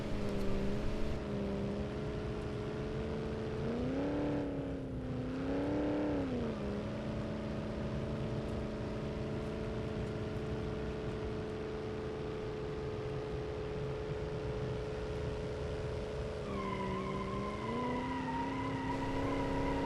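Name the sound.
Nissan Skyline GTR R34 engine at top speed, BeamNG.Drive game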